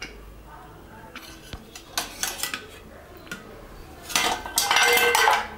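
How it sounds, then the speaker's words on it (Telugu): A pressure cooker lid lifted off after the pressure drops, heard as metallic clinks, scrapes and a final clatter of steel in a home kitchen, building from faint taps to a louder rattle near the end. "కుక్కర్ మూత ఓపెన్ చేసుకోవచ్చు."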